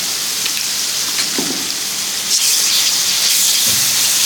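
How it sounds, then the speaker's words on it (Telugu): Onions, green chilies and ginger garlic paste fry in hot oil, giving a loud, continuous sizzling hiss with a few brief pops and no voices. "ఇది మొత్తం నూనెలో వేగేదాకా ఉంచుకోవాలి"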